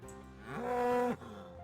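Cow in the video game Find Matt's Cats lets out a single drawn-out moo, rising and then cutting off sharply, moderately loud with no talking.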